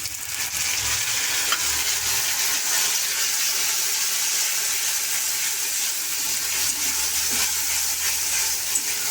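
Ginger, garlic, cumin, green chilli and turmeric sizzle and fry in oil with onions in a pan, a steady close hiss throughout with faint stirring, no talk.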